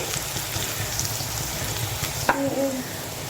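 Onions fry in a pan, a steady close sizzle with faint crackle, then a sharp clink of a utensil near the end followed by a brief tonal ring.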